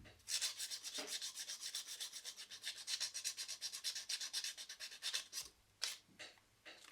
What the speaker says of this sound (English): you want to use some fine sandpaper to roughen up the edges you are soldering